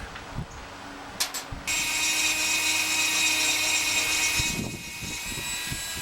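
A rotary tool with a bit carving a Godzilla model starts after a few light clicks and knocks, spinning up to a steady high whine for a few seconds before winding down into handling noises.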